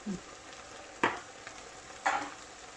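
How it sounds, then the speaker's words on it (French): Curry chicken taco filling is stirred in a pan, giving a low steady sizzle with two sharp scraping clacks of the utensil about a second apart. "Et on mélange le tout."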